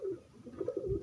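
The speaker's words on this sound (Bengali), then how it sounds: "যে পায়রাটা নিয়েছিলাম, এই যে গিরিবাজ পায়রাটা" A Giribaz pigeon cooing close by, a short series of soft, low rolling coos in quick succession, with no other voices.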